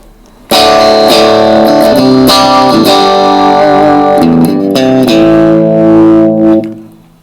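Electric guitar strummed chords through a vintage-style effects unit set to reverb, loud and close, each bright chord ringing out and washing into the next over about seven seconds, with no voices.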